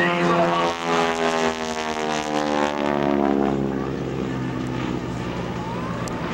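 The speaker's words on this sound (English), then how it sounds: "Watch Kevin take this SNJ aircraft to come top" A North American SNJ propeller warbird performing aerobatics at the 2008 Wheels & Warbirds airshow, its radial engine droning steadily with a slowly shifting pitch as it passes, moderately close.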